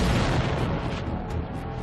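A meteoroid about half a football field in size exploding over the Siberian forest, heard as a sustained, loud, low rumbling blast with a dense roar that holds steady throughout, no voices present.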